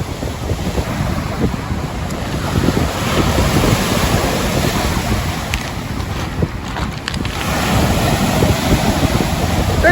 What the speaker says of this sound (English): Not a very peaceful day at the lake today. Very, very windy.